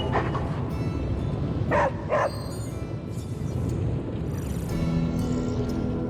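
A dog barks a few times in Marvel's Midnight Suns, short yips standing out midway over a steady bed of game ambience and background music.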